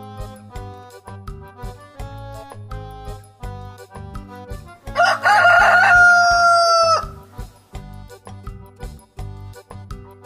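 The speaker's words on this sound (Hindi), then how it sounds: "उस सामने वाले दरख्त पर तो एक मुर्गा बैठा हुआ है।" A cartoon rooster in an Urdu children's story crows one long, loud cock-a-doodle-doo in the middle of a bouncy background music track, which plays before and after the crow.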